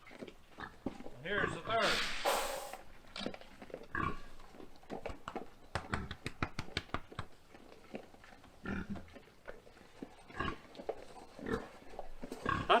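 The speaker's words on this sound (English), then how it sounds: "All these pigs have had it made." Pigs in a barn grunt and snort in short, irregular bursts at close range, while someone talks between and over them.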